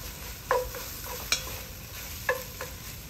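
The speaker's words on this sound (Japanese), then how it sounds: "素早く混ぜて半熟のうちにご飯を投入しますね" Egg and rice being stir-fried in a Vermicular pot, with a faint steady sizzle and a few sharp clinks of utensils scraping the pot.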